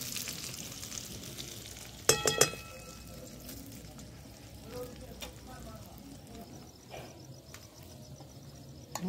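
Potatoes fry in a wok with a low, steady sizzle while being stirred, with a few sharper clatters of utensil against the pan near the start and quieter stirring scrapes later.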